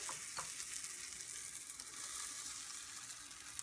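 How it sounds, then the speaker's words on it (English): Food with butter sizzling in a warmed cast iron pan, a steady close crackling fry with small pops throughout. "we got our cast iron pan warmed up. We're going to get this on there."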